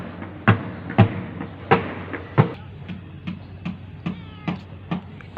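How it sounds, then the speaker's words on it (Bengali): A kitten on a rooftop vegetable garden meows about a dozen times in short, evenly spaced cries. The first few are close and loud, and the later ones grow softer. "আমাদের বিড়াল ছানা।"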